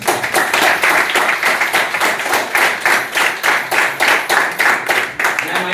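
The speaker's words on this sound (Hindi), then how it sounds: "मैं चाहूंगा एक बार जोरदार तालियां इंदु मैम के लिए" An audience at a New Year Kayakalap camp claps loudly and in unison for Indu ma'am, a fast, regular beat of many hands striking together without pause.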